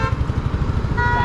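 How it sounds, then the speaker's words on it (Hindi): A KTM Duke 250 motorcycle engine runs close by on a city street, a steady throbbing rumble with rapid low pulses throughout. "भाई सुपर बाइक देखो क्या साउंड आ रही है"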